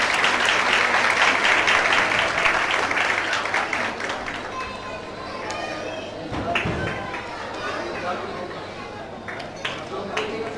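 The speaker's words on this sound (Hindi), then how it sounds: "आपकी तालियां रुकनी नहीं चाहिए।" Audience applause at a foundation event, loud clapping at the start that thins out and fades over several seconds, with crowd chatter and scattered voices continuing underneath.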